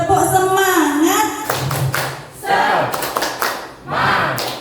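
An audience of teachers performs a rhythmic 'tepuk semangat' clapping chant at a positive-culture dissemination session, with bursts of patterned claps and shouted voices in a loud group chorus.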